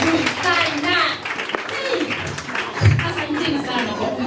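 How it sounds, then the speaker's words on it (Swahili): Clapping breaks out among families and children at a school graduation, mixed with loud talk from a speaker at the microphone and crowd chatter, rising unevenly and then thinning. "Hebu tupatie shule makofi."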